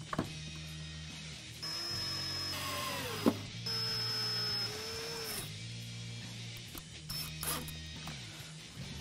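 A power drill drives screws into the taillight of a 2007–2018 Jeep Wrangler JK, with several short whirring bursts that rise and wind down, separated by pauses and faint handling noise.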